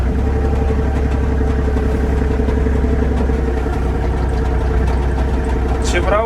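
A used Japanese compact tractor engine runs flat out at maximum revs. The close, loud diesel drone holds steady with a fine mechanical clatter layered over it.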